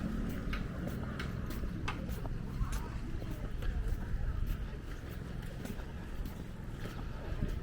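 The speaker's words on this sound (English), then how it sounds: "You got people jumping aboard this ferry here." A ferry crossing the Mekong River at Kratie, Cambodia, carrying people and motorbikes: steady engine and water rumble with wind buffeting the microphone and scattered knocks and clatters throughout.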